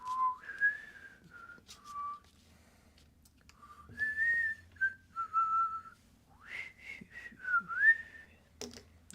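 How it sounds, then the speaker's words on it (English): A person whistles a wandering, tuneful melody of short and held notes, close and clear in a quiet room, with soft pauses between phrases. "I shouldn't whistle. That's probably annoying for your guys' ears."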